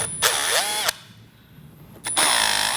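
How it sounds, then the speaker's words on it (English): A power drill drilling holes to nutsert size whines at high speed, stops for about a second, then spins up again, close and steady. "We're going to go ahead and drill out the 4 holes."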